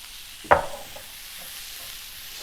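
Meat returned to a pan with rosemary: a single sharp clatter as it drops in, followed by a faint, low sizzle that lingers quietly for the rest of the moment.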